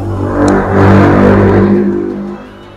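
A 2014 Honda City E automatic sedan engine runs close and loud, swelling in a rev before easing off and cutting out near the end.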